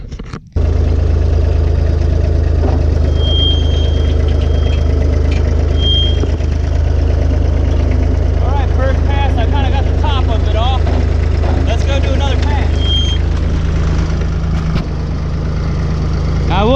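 A tractor engine drones steadily in reverse gear while pulling a scraper blade backwards to remove old stumps, a loud, continuous low rumble with faint higher squeaks and rattles.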